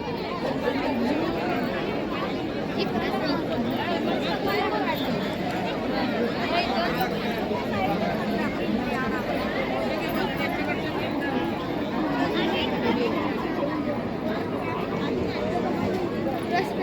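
Constant babble from a crowded canteen at a Nirankari samagam, where countless voices blend into an even, unbroken murmur. Occasional closer voices and faint clatter rise above it.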